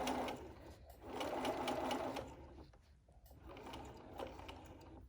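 A sewing machine runs in bursts while stitching a fitted face mask with a wire nose piece, its motor whirring steadily in two close, loud runs with a short pause between them.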